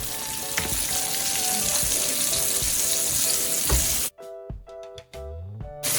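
Pork chops sizzle and fry loudly in a pan for about four seconds, then the broadband crackle cuts out into quieter gaps broken by a few sharp clinks and brief bursts of sizzling.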